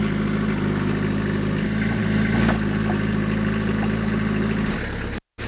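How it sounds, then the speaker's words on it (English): A mini skid loader's engine idles nearby with a steady, even low rumble that runs unbroken before dropping out briefly right at the end. "I bought a mini skid loader"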